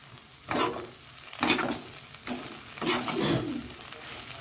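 Chicken curry with skin-on chicken, cumin powder and garam masala stirred in a pan, a spoon scraping in slow repeated strokes over a soft sizzle, close by.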